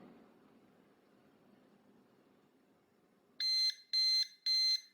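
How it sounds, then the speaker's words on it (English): Three short, bright electronic beeps in quick succession after a few seconds of low background rumble, from a Kwikset Powerbolt 2 electronic door lock completing a reset. "once you hear those 3 short beeps, the reset is complete"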